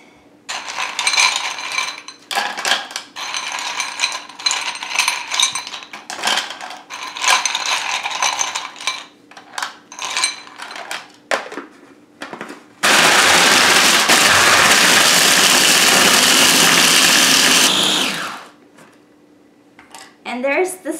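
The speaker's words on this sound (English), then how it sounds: "all you'll need is a blender or a food processor and some ice" A blender or food processor crushing homemade freezer ice into snow: irregular clattering and rattling bursts of ice against the blades, then a loud steady whirring grind that stops abruptly, with a voice talking in places.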